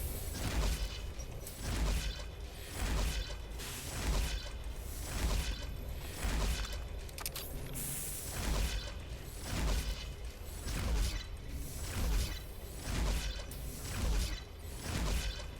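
Sonic Emitter firing bolt rounds in Fallout: New Vegas, a steady run of repeated mechanical whooshing pulses roughly every second, each with a buzzy, ratcheting body, loud and close with no talking.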